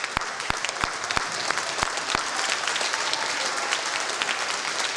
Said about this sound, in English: Athletes, let's stand up and give your mom and dad a round of applause.